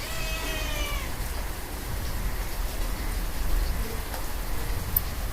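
A domestic cat lets out a short wavering meow at the start, partly masked by a constant rain-like hiss that fills the rest of the clip.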